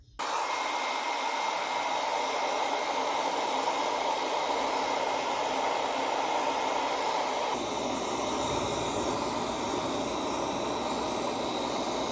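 Washed bald eagle feathers being dried, likely with a hair dryer, producing a loud, steady airy blowing roar that runs continuously from start to finish, with a slight change in tone partway through.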